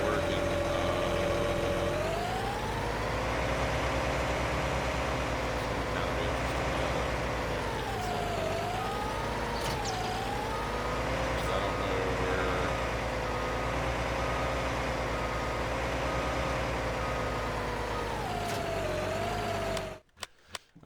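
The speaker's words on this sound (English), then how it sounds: "I'll go ahead and get this tractor working." A tractor engine in Farming Simulator 19 drones steadily and loudly for about twenty seconds, its pitch rising and falling gently with engine load, then cuts off abruptly at the end.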